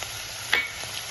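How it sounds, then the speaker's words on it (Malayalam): Chopped tomato drops into a hot frying pan already holding sautéed ingredients and curry leaves for an egg curry. A brief, steady sizzle is heard close up, with a soft stir near the middle and no talking. "ഒരു തക്കാളി അരിഞ്ഞതിട്ട് കൊടുക്കാവേ."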